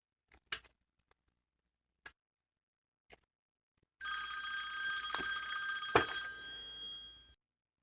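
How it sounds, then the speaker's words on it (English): A telephone rings with a steady electronic trill lasting about three seconds, loud and alone after a few faint ticking clicks in near silence. "Okay, sorry, I got a phone call, you guys."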